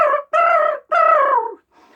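A voice imitates a crow perched in an old dead tree on a mountaintop, giving three drawn-out, nasal caws close to the listener, the last one faint and trailing.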